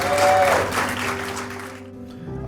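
Applause from an audience at an apartment building renaming ceremony, a full, steady clapping that gradually thins out, with a faint held tone underneath.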